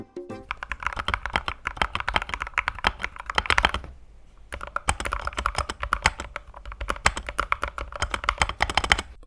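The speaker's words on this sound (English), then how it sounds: "spacebar sounds decent if I press the left side, but sounds really bad when I press the right side" A keyboard spacebar with poor stabilizers is pressed over and over. The clicks and clacks come close and sharp in a fast, uneven stream, with a short lull partway through.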